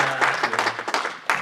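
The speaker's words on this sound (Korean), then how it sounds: "박수로 환영합니다." Korean-speaking congregation at a Presbyterian Sunday worship service in Las Vegas claps to welcome a first-time visitor; a short, moderately loud burst of scattered hand claps with uneven rhythm.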